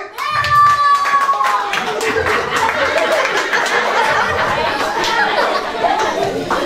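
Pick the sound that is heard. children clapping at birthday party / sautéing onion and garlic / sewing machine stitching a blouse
children clapping at birthday party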